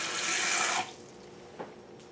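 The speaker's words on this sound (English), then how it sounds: "I'm going to go ahead and add a few teaspoons of water." Water pours from a tap for under a second to be added to struffoli dough for Italian honey balls, then stops, leaving near silence broken by one small knock.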